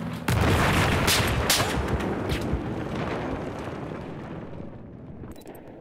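A C4 charge detonates in the Battlefield 4 game, a sudden loud boom followed by a long rumbling roar and debris that slowly fades over several seconds, with no talking.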